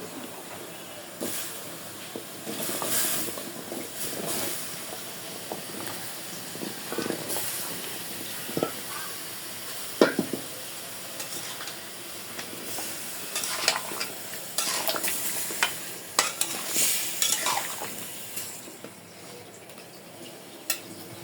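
Pumpkin pieces simmering and being stirred in a spiced river-shrimp gravy, giving a continuous bubbling hiss with repeated scraping strokes and utensil knocks close by, and no voices.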